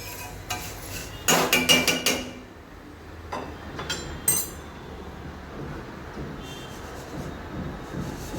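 Dry, brittle scraping and rattling of instant Maggi noodles roasting in a metal pan, with a quick burst of repeated clattering strokes, then sparser knocks over a faint background hiss.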